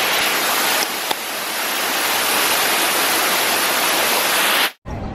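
Waterfall in a garden at Epcot's Flower and Garden Festival, a loud, steady, broadband rush of falling water that runs unbroken and then cuts off abruptly near the end.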